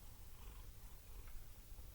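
A cat purrs softly in a low, steady rumble, close but quiet and alone with no voices.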